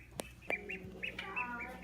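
Small ducklings peep in short, high chirps while being moved into a playpen converted to a bird pen with bedding, with a couple of sharp handling knocks, close and fairly quiet.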